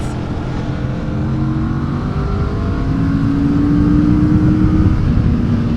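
A Kawasaki Vulcan S motorcycle with a Ninja 650-derived engine pulls hard under acceleration, a loud steady drone with rising engine tones building over several seconds amid road and wind noise.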